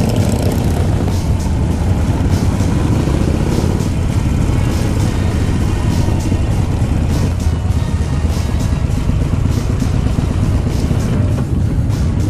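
Harley-Davidson Sportster motorcycle racing at Silverstone, heard as a loud, continuous engine roar that stays close throughout, with wind buffeting over it.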